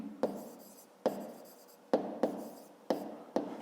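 Pen on paper as a maths exercise is written by hand: six sharp taps mark each new stroke, each trailing into soft scratching, close and quiet with no talking.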